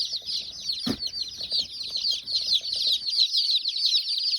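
Dozens of baby chicks, two or three days old, packed into one small box, chirp constantly in a dense high-pitched chorus, close and steady, with a brief thump near the start.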